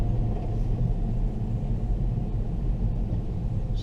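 Low, steady road rumble from inside a 2019 Ford Fiesta ST-Line Mk8 automatic on a country lane as another car passes, a continuous moderate drone without talk.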